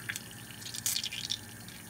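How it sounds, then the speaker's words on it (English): Water squeezed out of rinsed lion's mane mushroom pieces, soft drips and trickling splashes with a brief louder burst of liquid near the middle, heard close and alone. "rinse the mushroom on the water and squeeze the liquid out."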